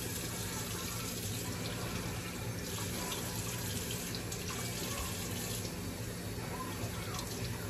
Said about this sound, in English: You dripping water.